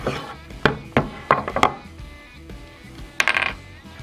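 A cutter working through the wax coating on a blue Gouda cheese: a few sharp clicks and knocks come in a loose cluster, followed by a short burst of ticking taps, close and moderately loud, with no talking.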